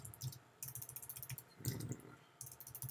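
Rapid keyboard typing in bursts of clicking keystrokes, fairly close and steady, with short pauses between runs and no voices.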